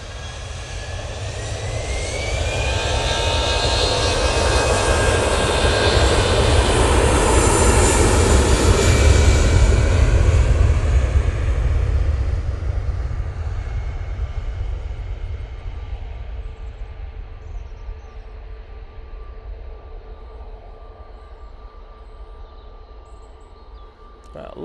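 An Etihad jet airliner comes in to land, its engine roar swelling loud and broad over about ten seconds around touchdown, then slowly fading into a distant, thinning rumble.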